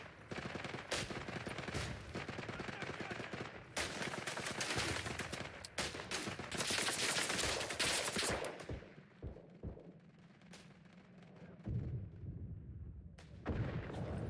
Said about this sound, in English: L'artiglieria sta sparando su queste coordinate!